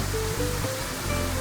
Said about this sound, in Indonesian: Ini suara gemericik air dengan jelas terdengar di dalam kamar nih.